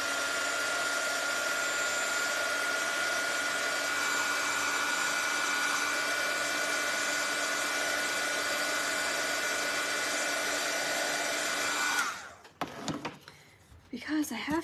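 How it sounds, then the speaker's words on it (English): A hair dryer blows steadily and loudly, drying paint on a wooden tiered tray, a constant whooshing hum that runs for about twelve seconds before cutting off, followed by a few soft handling clatters. "I'm gonna hit this with the dryer real quick."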